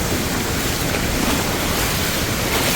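A waterfall right beside a house in Kerala pours out a loud, continuous broadband roar close to the microphone, steady throughout with no voices.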